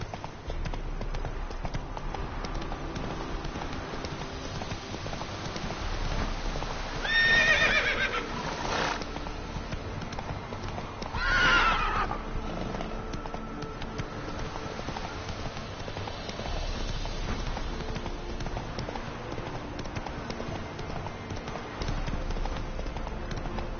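Horse Roach in a Witcher video game, with two loud whinnying neighs over steady clip-clop hoofbeats and quiet game ambience.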